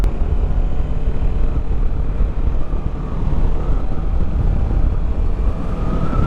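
Kawasaki Versys 650 LT adventure motorcycle heard from the rider's position at road speed, a steady engine drone mixed with heavy wind rush on the microphone throughout.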